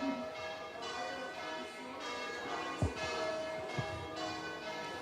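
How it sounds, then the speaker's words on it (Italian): Church bells ring at an outdoor inauguration ceremony for a hillside wine show in Refrontolo and Rua di Feletto, tolling in a repeated, moderately distant pattern with a couple of sharper knocks and background ambience. "durante i discorsi ovviamente anche le campane valorizzano i nostri discorsi"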